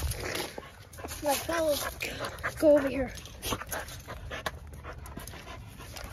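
A dog pants and lets out short whimpering, whiny sounds, caught mid-distance under people talking as they move through a place that feels unsafe.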